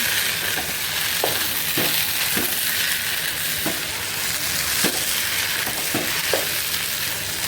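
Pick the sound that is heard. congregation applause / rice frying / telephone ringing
rice frying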